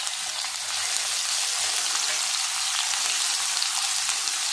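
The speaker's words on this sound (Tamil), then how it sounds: "இது நல்லா கலர் சேஞ்ச் ஆகி வர வரைக்கும் நல்லா வறுக்கணும்" Two finely chopped large onions with fennel seeds frying in oil in a pan, a loud, dense, continuous close sizzle that holds steady with no talking.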